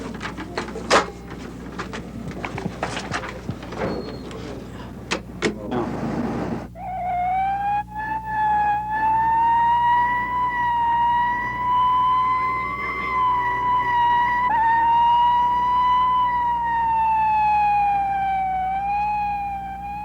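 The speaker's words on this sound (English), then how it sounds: "the urgent sound of an emergency vehicle is just a noise we hear in the distance" After a few seconds of clattering knocks, a loud wailing emergency vehicle siren rises and falls steadily, sustained and fairly close, on an Atlanta street in 1974.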